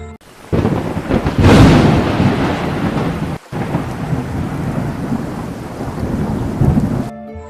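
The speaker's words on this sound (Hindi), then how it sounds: "अचानक जोर से बिजली चमकी और बूंदें गिरने लगी।" Heavy rain pours steadily while thunder rumbles loudly, a storm close and continuous.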